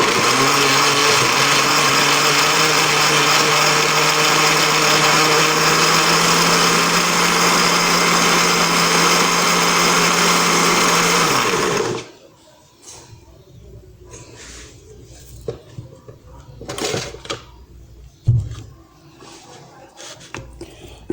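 A kitchen blender grinds garlic, onion, spring onion, ginger, chili, celery and bell pepper with a loud, steady high whine for about twelve seconds, then cuts off, leaving quiet clinks and handling noises.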